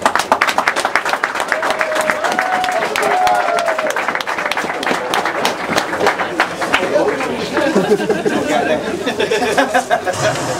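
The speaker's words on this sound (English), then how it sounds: "just have a quick round of applause" Quick round of applause for faction leaders at a Super 6 series event, brisk crisp clapping from a nearby crowd lasting several seconds, with chatter and voices mixed in, continuing unevenly toward the end.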